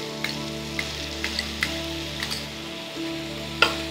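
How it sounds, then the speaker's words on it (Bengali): Onion lightly frying in a pan makes a gentle crackle with scattered sharp pops over a steady low hum. "পেঁয়াজটা হালকা ফ্রাই হচ্ছে"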